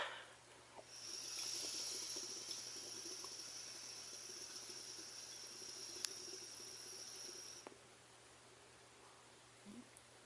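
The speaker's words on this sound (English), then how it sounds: "It's not that loud, like the little bubble sound." Water bubbling softly through the base of a green hookah, a faint steady gurgle under a constant hiss for about seven seconds before it stops.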